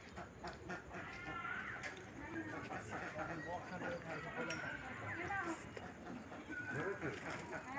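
A crowd of frightened ducks and chickens clucks and squawks continuously at moderate distance, with people talking over the flock throughout.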